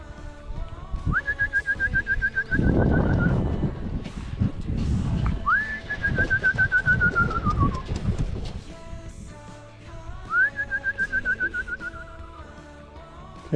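Racing pigeons coo close by, with low rolling coos repeating through the clip, while a person whistles three long descending notes over them. No talking.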